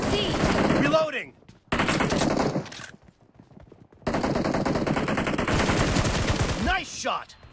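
Automatic gunfire in the PUBG Mobile game, with long rapid bursts of shots near and loud, broken by short silent gaps, plus a few whooshing game effects and no talking.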